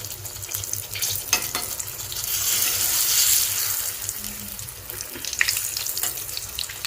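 Aloo masala bajji frying in hot oil, giving a steady broadband hiss and sizzle with a brief swell in the middle and light clatter near the end, with no talk.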